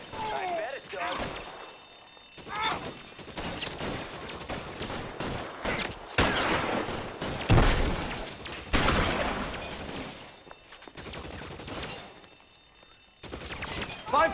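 Tommy gun and shotgun fire in a L.A. Noire shootout: bursts of automatic fire and heavy single blasts crack in irregular clusters, with shouted voices mixed in throughout.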